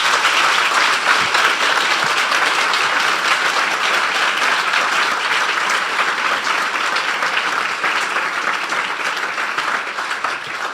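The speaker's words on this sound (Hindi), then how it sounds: "आइए प्रभु के लिए एक अच्छी ताली बजाएंगे हम मिलकर।" A church congregation at a revival convention claps together in a loud, dense burst of applause that carries steadily for about ten seconds and fades slightly at the end.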